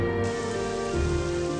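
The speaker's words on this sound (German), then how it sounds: "Jetzt regnet es hier gerade leider." Rain falls in the video game Morrowind, a steady, even patter of raindrops on surfaces that carries on throughout.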